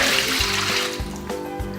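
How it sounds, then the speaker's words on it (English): Room-temperature water pours steadily into a container to proof yeast for challah dough, a continuous close splashing trickle with no talking. "We're going to take our water, and here I have the large amount of water, room temperature."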